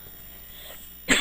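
A short burst of coughing from a person with flu, breaking in near the end after a stretch of quiet room noise, close and fairly loud.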